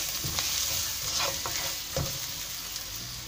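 Onions stirred in a hot pan with green chilies and turmeric for kanda poha, a steady sizzle broken by a few scraping spatula strokes, close and without voices.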